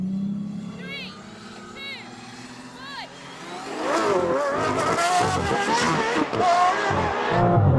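An Aston Martin Valkyrie accelerates hard in a rolling drag race. After a quieter opening with a few brief chirps, a loud engine howl surges in and climbs steadily, with voices talking over it.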